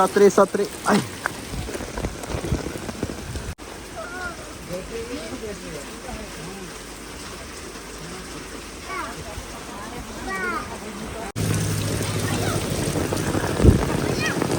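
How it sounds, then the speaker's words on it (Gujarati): Heavy rain pours down steadily during a river flood, a continuous hiss under frequent talk, growing louder and denser in the final seconds. "ધોધમાર વરસાદ ચાલુ થઈ ગયો છે પાછો."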